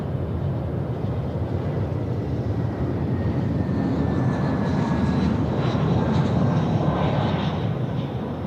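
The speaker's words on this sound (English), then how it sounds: "Jetstar service now coming in from Launceston." A Jetstar airliner from Launceston arrives on runway 16 right at Sydney Airport at night, its engines giving a loud, steady roar that holds constant and swells slightly toward the end.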